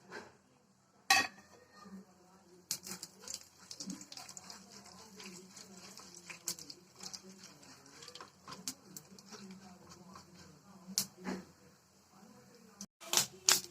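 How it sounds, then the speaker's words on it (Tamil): Cumin and dal splutter in hot oil in a pan with soft, scattered crackles and pops against a quiet kitchen background, with a few sharper clicks from a utensil. "ஜீரகம் கடலுந்த பருப்பு பொரிய ஆரம்பிச்சிருச்சு"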